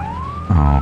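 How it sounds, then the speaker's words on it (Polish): Fire truck siren in the Firefighting Simulator video game: a steady rising electronic wail sweeps upward, then a loud low horn-like blast joins in for the last half second. "Trochę syreny poużywamy."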